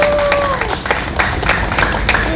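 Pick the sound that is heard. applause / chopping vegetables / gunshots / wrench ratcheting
applause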